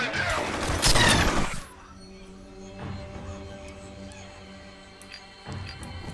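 A dense, loud burst of gunfire erupts in the F.E.A.R. Extraction Point video game, followed by quieter scattered shots and a faint ambient hum.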